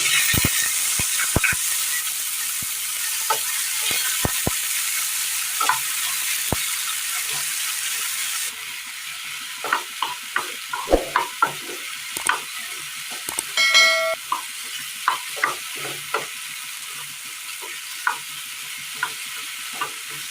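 Chopped tomato hits a pan of hot oil with dried red chilies, fennel, cardamom and cinnamon for a Kerala curry. A steady loud sizzle fills the pan, with scattered clinks and scrapes of a spoon that grow busier partway through.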